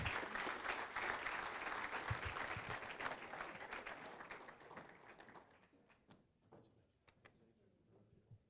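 Crowd applause at a school athletics hall of honor ceremony, loud at first then thinning into scattered individual claps and a few knocks as it dies away.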